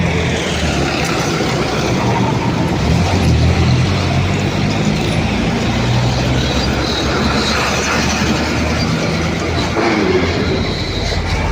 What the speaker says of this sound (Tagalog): Ang daming mga bus na dumadaan dito